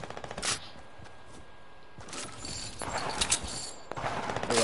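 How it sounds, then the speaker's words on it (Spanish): Gunfire in a duo match of a video game, a burst of rapid shots followed by scattered bursts over several seconds, heard alone without talk. "Aunque escucho disparo."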